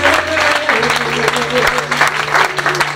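A church congregation applauds and cheers during a French-language worship seminar, a dense, steady wash of clapping and voices lasting throughout, with a sustained low musical tone underneath.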